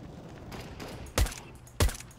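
Two loud, sharp gunshots from a shooter video game ring out about half a second apart, close and punchy. Quieter in-game ambience sits underneath between the shots.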